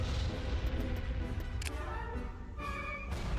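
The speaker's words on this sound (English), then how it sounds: "Open fire on those laser cannons" Rapid bursts of laser cannon fire in a Star Wars video game, with booming thumps and high zapping tones, dense and layered like a busy space battle, loud and continuous.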